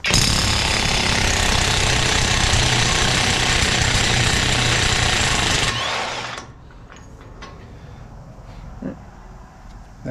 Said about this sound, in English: That's why I'm using electric impact.